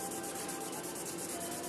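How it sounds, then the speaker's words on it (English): Fine 2000-grit sandpaper rubs steadily over a rusty kitchen knife blade, a close, even, continuous scratchy hiss with no pauses, alone with no talking. "2000 grit is very fine sanding paper, but still we can remove the"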